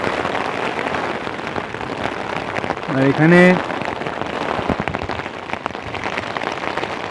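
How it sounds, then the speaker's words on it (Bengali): A heavy rain and hailstorm pelts the surroundings on a Himalayan meadow trek, producing a dense, steady patter with a brief louder burst midway, as people talk over it. "বাইরে একেবারে ঝড় বৃষ্টি হচ্ছে"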